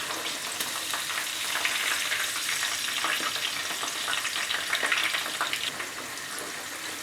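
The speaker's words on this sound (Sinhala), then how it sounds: "තෙල් එක හොඳට රත් වුණාම බෝංචි ටික දාලා මම විනාඩියක් ඇතුළත බා ගත්තා" Green beans fry in hot oil with a steady, dense crackling sizzle that swells slightly as they are stirred, close and continuous with no talking.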